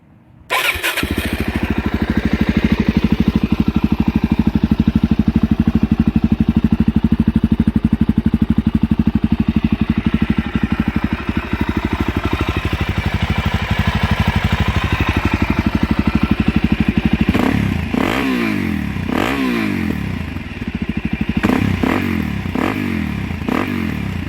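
A Suzuki DRZ400SM supermoto fitted with a Yoshimura full exhaust cranks and fires up, then idles loudly and steadily close by before several sharp throttle blips rev it near the end.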